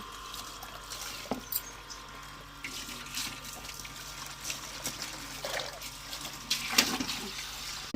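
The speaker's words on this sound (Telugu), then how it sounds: "ట్యాప్ వస్తుంది, ట్యాప్ వాటర్ అయితే పడుతున్నా" Tap water runs and trickles into a container in a household setting, a faint, steady flow broken by a few splashes and clinks close by.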